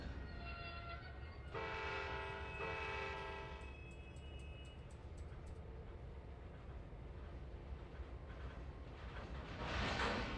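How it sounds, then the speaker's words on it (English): A freight train passes in the Trainz 2022 railroad simulator, a steady rolling rumble of wagons overlaid with a sustained multi-tone horn blast near the start, then continuing rumble with a hiss swelling at the end. "We're gonna watch the whole train go by."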